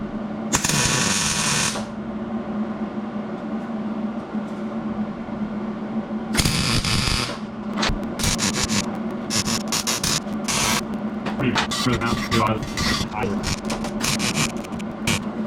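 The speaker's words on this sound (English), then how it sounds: "drill out that hole and then use the grinder and slot it" Power tools whine and grind against metal in bursts, a drill boring a hole followed by a rough, buzzing grinder cutting a slot, loud and close, on a turbo Chevrolet C10 drag truck.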